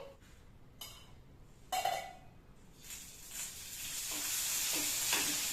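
Coriander seeds and cumin fry in a little oil, with scraping stirs and soft crackles that build into a steadier sizzle by the end.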